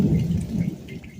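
Thunderstorm with rain passing over a camper lot during repairs on a 1987 Cadet camper, a low steady rumble with soft rain hiss, moderately loud and without voices.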